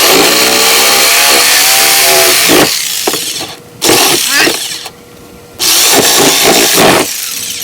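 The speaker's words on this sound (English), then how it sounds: "Now we're going to take the jigsaw and we're just going to cut these out." A jigsaw cutting out panels from old metal locker doors, loud and close, with a long harsh cut that stops, restarts in short bursts and runs again.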